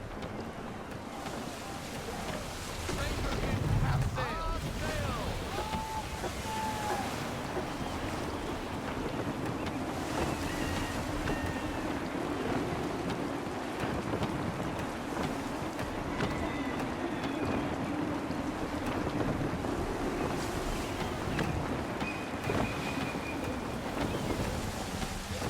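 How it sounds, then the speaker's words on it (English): Steady gusting wind and sea wash around a sailing ship on open water in Assassin's Creed 3, a continuous moderate roar of wind and waves with brief tonal creaks. "Gusty winds can be difficult to manage."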